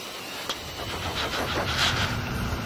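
A car passing on the Splügen mountain pass road, engine noise swelling as it approaches and rising to a peak near the end, moderately loud and close.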